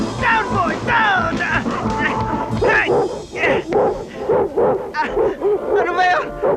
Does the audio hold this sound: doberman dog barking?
yes